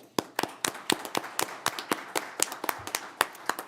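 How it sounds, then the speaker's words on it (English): A single person clapping at a city council meeting, roughly seventeen sharp, close claps in an uneven rhythm with no voices over them. "I think that deserves a round of applause."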